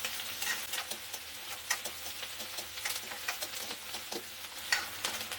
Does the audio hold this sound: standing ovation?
no